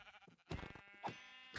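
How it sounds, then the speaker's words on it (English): Sheep in the Minecraft video game bleat in short synthetic calls, a couple of brief bleats over faint game sounds. "let's kill those sheep"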